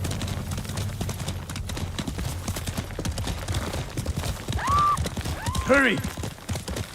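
Hooves of a horse galloping in Ghost of Tsushima pound in a steady, fast clip-clop rhythm under continuous game sound, while a voice calls out briefly and a whistle-like rising tone sounds near the end.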